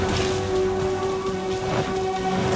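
Steady rain and rumbling thunder from a stormy scene in the Genshin Impact game, a continuous wash of downpour with low rolls beneath a sustained tonal music note, with no voices.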